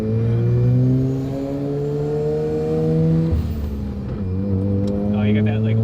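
A restored Mazda FC RX-7 with a turbocharged rotary engine pulls hard on a street, its loud rising engine tone climbing through gears with a shift mid-way, heard from inside the car.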